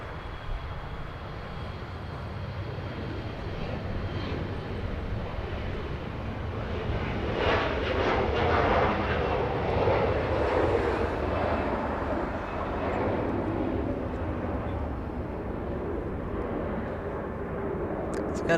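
Embraer E175 jet airliner taking off at Los Angeles International Airport, a steady engine roar that swells toward the middle and lingers at a distance, with faint background noise throughout.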